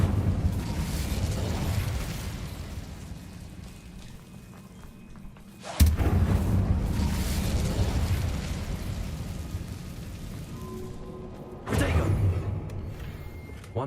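Incendio fire spells cast in Hogwarts Legacy on PC burst out as two loud whooshing blasts several seconds apart, each flaring suddenly and then rumbling down into a low fiery roar.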